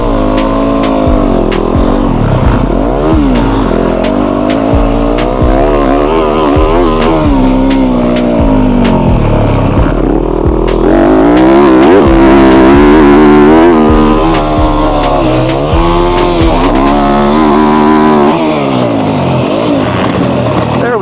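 A motocross dirt bike races around a track, its engine loud and close throughout, revving up and dropping as the rider shifts between second and third gear, with steady pitch sweeps and no pauses.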